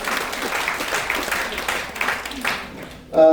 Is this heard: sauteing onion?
no